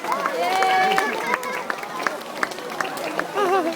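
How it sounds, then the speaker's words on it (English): A zoo crowd claps for elephants at an outdoor elephant show at Taronga Zoo Sydney, a scattered round of applause mixed with crowd chatter and an announcer's voice. "please join me in giving a big warm round of applause for our elephants"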